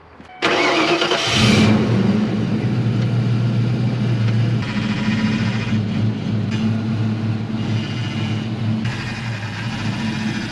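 A Ford Mustang GT 5.0 Fox body engine cranks and catches, then settles into a loud, steady high idle with a constant droning hum, close by with no talk.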